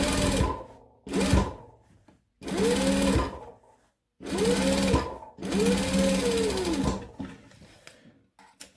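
A sewing machine runs in several separate bursts while top stitching face mask pieces, each run whirring up and slowing down, with short quiet gaps between them.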